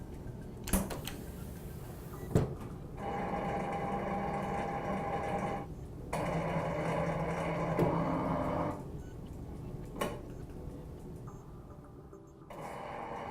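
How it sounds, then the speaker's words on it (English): A motor assembly press pushes a pinion onto a motor shaft in a factory setting, giving a low, steady mechanical hum with sharp clicks and clunks as the cycle starts and ends, all faint and unaccompanied by voices. "Then the motor is placed inside the press. And the press is cycled."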